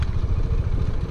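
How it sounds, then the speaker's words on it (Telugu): Motorcycle with Showa suspension climbing an off-road mountain trail in low gear toward Mandalpatti peak in Coorg, its engine a steady close, loud rumble with some clatter, no talk. "So this bike is doing a very good job."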